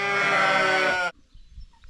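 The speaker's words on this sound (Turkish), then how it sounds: "Koyunlar yem bekliyor." A sheep waiting for its evening feed lets out one long, loud bleat up close, lasting about a second before cutting off into near silence.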